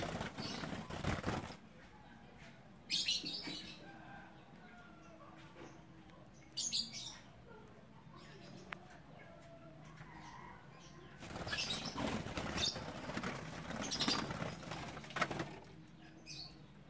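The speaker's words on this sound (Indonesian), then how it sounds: "ini adalah penangkaran burung terucuk" Captive trucuk bulbuls in a breeding cage give scattered chirps and several bursts of flapping wings, the flutters loud and close against a quiet, steady background with no talk.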